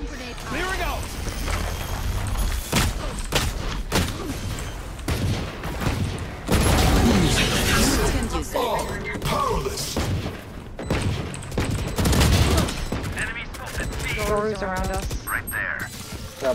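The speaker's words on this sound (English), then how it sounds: "Placing swarm grenade. Swarm grenade." A swarm grenade detonates in the shooter game Valorant, bursting into a dense run of sharp booms and rapid popping among other gunfire and game effects, with a player's voice and voice lines talking over it.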